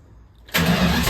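An old Dodge Challenger engine cranks and fires, silence giving way abruptly to a loud, steady close-up roar of the running engine.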